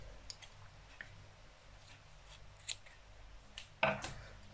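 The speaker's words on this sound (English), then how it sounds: "I have my last stitch here, so I will cut the yarn." Scissors snip through crochet yarn after the final row of a round-bottom laundry basket bag: quiet handling clicks and rustles, then one sharper, close cut near the end.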